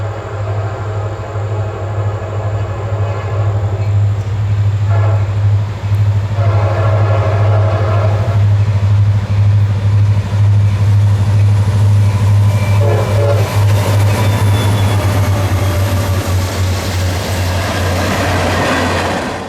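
An EMD GP38-2 locomotive, CSX 2744, leads train Q453 in an all-EMD consist. Its loud, close diesel drone runs throughout, horn blasts sound in the early seconds, and wheel and car noise build as it passes.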